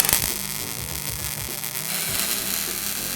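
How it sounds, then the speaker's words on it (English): Welding a rally kart's front bumper onto the frame near the steering shaft, a steady crackling, buzzing hiss that holds close and loud for the whole stretch with no talking. "All welded up"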